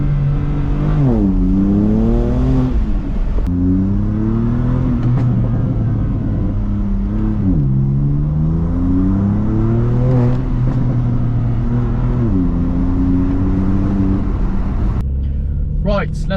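A BMW M2 Competition's exhaust burbling and droning through repeated downshifts and revs while cruising through town, loud and close, with pitch swinging up and down over several gear changes and a voice briefly at the end.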